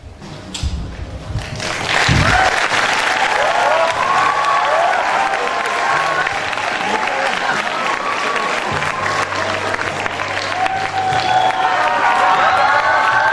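A school play audience breaks into loud, sustained applause with some cheering, rising sharply after a brief quiet start and holding steady to the end, with faint voices mixed into the clapping.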